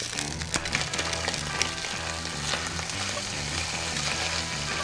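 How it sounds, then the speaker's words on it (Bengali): Tomato puree sizzles in a hot pan for a Bengali katla fish curry, a dense, continuous frying crackle with scattered pops and stirring clatter, close and steady throughout. "এবার টমেটো পিউরি অ্যাড করুন।"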